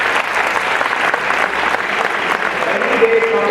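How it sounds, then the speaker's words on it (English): Dense applause from an audience at a school gathering at a Ramakrishna Mission, steady loud clapping filling the whole stretch without pause. "Give him a round of applause."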